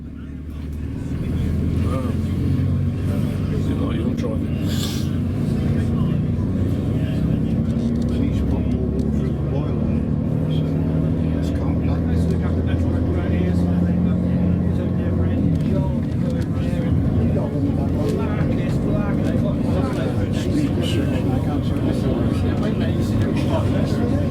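A heritage railway railcar with a pre-selected gearbox pulls away, its engine a steady low droning rumble that builds and holds at a constant loud level over the whole stretch.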